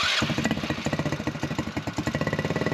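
A warm buggy engine turns over and catches, firing in quick, regular close-up pulses that rise and fall as the throttle is blipped.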